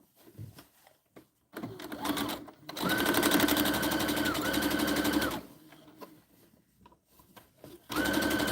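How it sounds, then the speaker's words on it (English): A sewing machine stitches the casing of a Christmas tree gift bag. It runs in loud steady bursts of rapid whirring, with pauses and light handling noises between runs. "And now we're going to do the casing. So let's go ahead and sew that."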